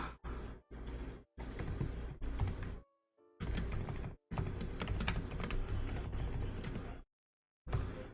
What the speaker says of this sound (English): I'll have to type the actual XOR.